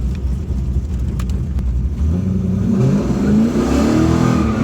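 A cam-only LS1 Trans Am WS6 launches down a drag strip, its V8 roaring loudly and rising in pitch as it accelerates hard, heard from inside the car.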